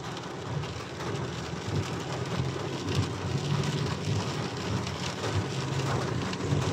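Heavy rain pours down on a mountain road climbing toward Taif, a dense, continuous hiss of drops drumming on the road and vehicle, steady throughout with no talking.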